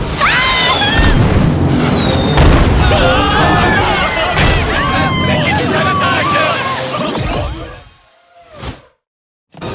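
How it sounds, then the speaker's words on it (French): Cartoon cannonball attack with booming explosions and clanging impacts amid excited crowd babble and voices, loud and busy, then the din drops away to near silence with one last thump near the end. "au plein milieu d'une attaque à risquer ma vie face à des boulets de canon"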